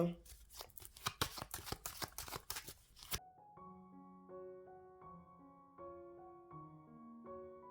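A deck of tarot cards is shuffled up close in a rapid burst of crisp riffling and slapping for about three seconds, then soft melodic music takes over.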